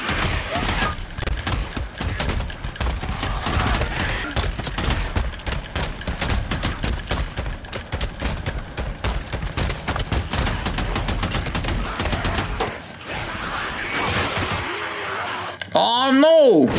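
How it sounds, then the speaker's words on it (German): Dense, continuous gunfire from the Days Gone video game, rapid bursts of shots layered over one another at a steady loud level, broken near the end by a short pause and a final sharp burst. "Ich muss mal hier ein bisschen schießen"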